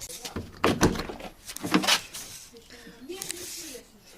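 Car door on a Slavuta being worked on at a used-car dismantling lot, with a couple of broad knocking thumps near the start followed by talking voices nearby.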